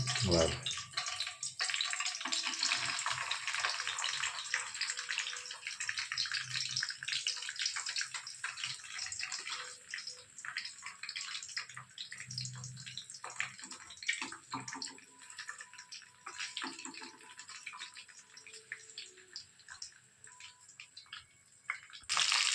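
Fish frying in hot oil with curry leaves in a pan, a steady loud sizzle and spatter that holds throughout, close up, with a few brief words spoken over it.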